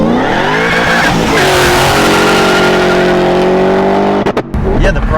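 A 1979 Camaro Z28 with a 755 hp LT5 engine drives with a steady, loud engine drone, shifting pitch once and settling into a sustained roar, with a brief break and some noise near the end.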